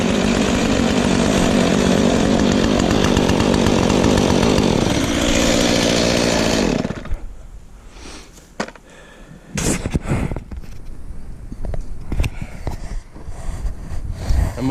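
Husqvarna 450 and Stihl MS 251 chainsaws run loud and steady for about seven seconds, then cut out, leaving scattered knocks and handling noises close by.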